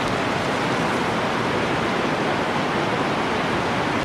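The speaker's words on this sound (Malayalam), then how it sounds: "മഴ ഇങ്ങനെ തകർത്ത് പെയ്തുകൊണ്ടിരിക്കുന്നുണ്ട്." Heavy rain pouring down steadily outdoors during a large biriyani cook, a dense, even roar of water with no breaks and no voices.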